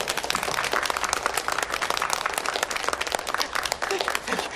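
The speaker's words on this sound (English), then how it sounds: "The clapping's a little loud." Dense applause from a large crowd fills a movie scene, steady and loud throughout, many hands clapping at once in a continuous roar.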